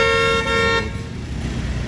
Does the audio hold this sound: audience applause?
no